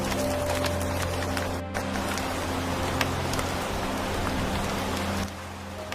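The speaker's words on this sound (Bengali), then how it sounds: "একদিন রাতে খুব জোরদার বৃষ্টি শুরু হয়ে যায়।" Heavy rain pours down at night in a steady, dense hiss that barely changes, softening slightly near the end.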